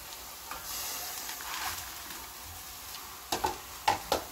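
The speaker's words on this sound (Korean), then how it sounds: "그때 불을 이제 세게 하셔서 좀 빨리 볶아내야 돼요." Anchovies being stir-fried in a pan over high heat, with a steady hiss of frying followed by a few sharp scrapes and knocks of a utensil toward the end, close and moderately quiet.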